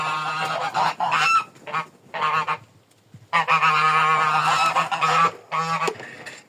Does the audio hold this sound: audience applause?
no